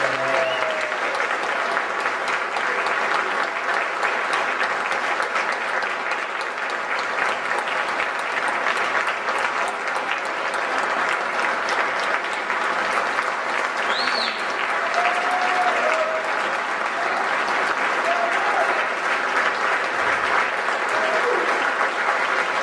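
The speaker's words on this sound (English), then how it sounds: "Let's have another round of applause for both of tonight's keynote speakers, Richard Epstein" Sustained, dense applause from a large audience cheering keynote speakers at an evening event, steady and loud for over twenty seconds with faint voices mixed in.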